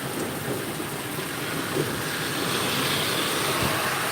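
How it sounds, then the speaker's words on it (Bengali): In Saudi Arabia, rain keeps pouring after a hailstorm, a dense, steady roar of falling water with a low thunder rumble building toward the end. "এতক্ষণ শিলে বৃষ্টি হলো"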